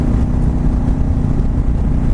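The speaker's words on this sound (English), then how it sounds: "whatever exhaust this thing has on it, has a great sound to it" A 2004 Yamaha V-Star (Drag Star) 1100 V-twin cruiser idles with a loud, deep, steady exhaust rumble, heard close and with nothing else over it.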